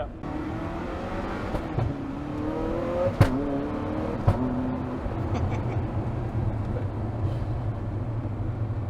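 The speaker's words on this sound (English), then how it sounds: "Accelerating to 60 mile an hour with pops and bangs never gets boring." A Zenvo TSR-S hypercar accelerates hard, its engine note climbing through the gears with sharp exhaust pops and bangs cracking out, loud and close from inside the car.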